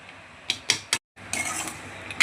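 Chicken pickle is stirred with lemon juice in a pot, giving a few sharp scraping and clinking strokes, a brief pause, then a longer rustling scrape up close.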